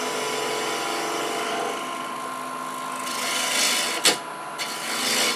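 A freshly sharpened turning tool cuts crepe myrtle wood spinning on a lathe, giving a steady close scraping hiss that swells louder near the end with a couple of sharp knocks.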